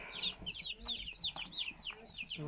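A group of young chicks in a backyard poultry yard, running around with a busy stream of high cheeping and peeping close by, plus a few soft low thumps and faint background noise.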